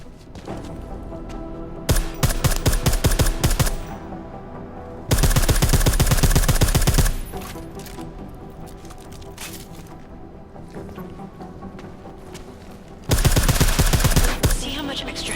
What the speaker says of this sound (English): I like how silencers reduce sound, but the trade-off is less stopping power.